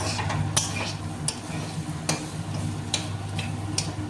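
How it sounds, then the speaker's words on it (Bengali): Vegetables for vegetarian sabudana pulao are stirred and fried in a pan, with a spatula giving sharp scraping ticks every second or so over a low, steady hum and faint sizzle. "এইভাবে নাড়াচাড়া করে ভালোভাবে ভেজে নেব"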